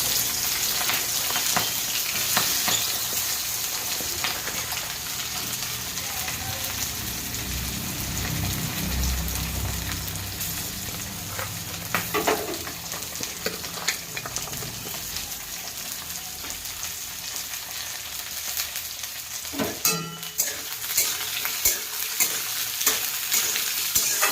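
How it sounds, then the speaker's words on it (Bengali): Chopped vegetables hiss and crackle in oil tempered with cumin seeds and bay leaf for a vegetable dal. Frequent spatula knocks sit over a low rumble in the middle, and one sharp clatter comes near the end. "এবার আমি এর মধ্যে দিয়ে দেবো কেটে রাখা সবজিগুলো।"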